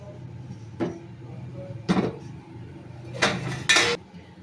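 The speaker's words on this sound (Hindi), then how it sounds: "फिर कढ़ाई रखेंगे चूल्हे पर" A kadai wok set down on a kitchen stove while making pakora kadhi, a few sharp metallic clanks and knocks spaced over a few seconds, the last two louder and ringing, with no talking.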